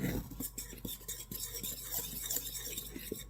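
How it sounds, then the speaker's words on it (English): A fork mixes dry buttermilk pancake ingredients in a bowl, making soft close scraping and light clinking strokes at a quiet level with no talking. "I'm going to take a fork and I'm going to mix this up."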